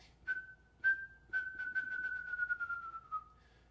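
A person whistles an imitation of the wrentit's bouncing ping-pong-ball call: a steady high tone broken by a run of notes that speed up and tumble, quiet and close, with no talk.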